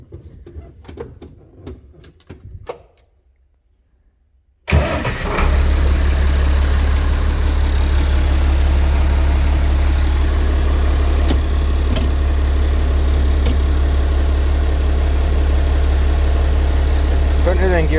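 An International Harvester 1086 tractor diesel engine cranks and catches, then settles into a steady, loud, close idle that runs on unbroken, after some quiet handling noises at the start.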